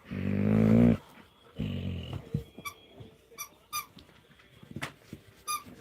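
Dakota, a protective female dog, and a pup trade a loud whining squeal and low growls up close, followed by scattered short squeaks and snuffles.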